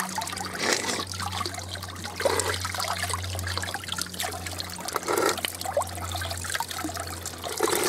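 Cold spring water trickles steadily from a source along the western headwaters of a small river, a continuous close splashing dribble with a low steady hum beneath it and no voices.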